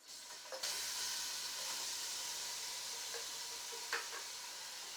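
Onions drop into hot oil and burst into an abrupt, loud sizzle that settles into a constant hiss, with a couple of brief louder crackles from stirring.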